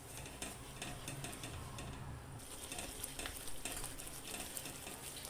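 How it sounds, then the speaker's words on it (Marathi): Turmeric is stirred and sautéed in a pan for buttermilk kadhi, giving a steady soft sizzle with light scraping and occasional utensil ticks, faint and close, with no voices. "पुन्हा आपण छान असं परतून परतून घेणार आहोत"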